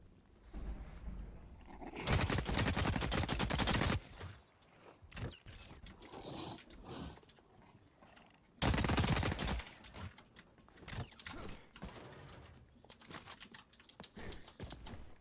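A flechette gun firing in Star Citizen: two sustained, loud bursts of rapid fire, each about two seconds long, separated by quieter clicks, mechanical clatter and scattered game noises.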